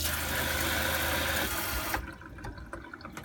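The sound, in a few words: RV water pump running and faucet water flowing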